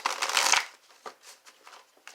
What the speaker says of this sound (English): I'm going to shuffle these the old-fashioned way.